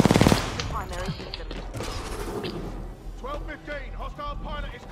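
A turret fires in the Titanfall 2 video game campaign. A loud burst of gunfire comes at the start, then mechanical clatter and scattered shots continue under voices speaking.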